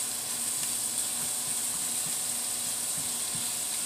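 Squash frying in a pan with tomato just added: a steady, even sizzle with soft crackles and pops, continuous and close, with no voices.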